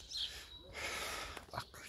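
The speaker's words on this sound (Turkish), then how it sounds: "Dağın eteğinde böyle coruk coruk coruk coruk kuş sesleri, çalı sesleri, bülbül sesleri, baykuş sesleri." Birds chirp at the foot of a mountain on an early morning, with faint, scattered high calls over a breezy open-air hiss.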